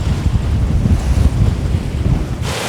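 A sailboat under hydrovane self-steering rides ocean waves on the way to Helgoland, with strong wind buffeting the microphone and a continuous rush of water and surf.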